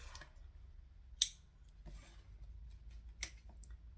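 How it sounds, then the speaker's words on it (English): A pair of scissors gives a few sharp, quiet snips while trimming thread tails on the back of machine embroidery, isolated clicks over a near-silent room. "now we need some scissors"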